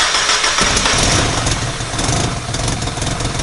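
A car engine just after its first start, running rough with vacuum leaks: a loud, ragged, continuous mechanical roar close by, without talk.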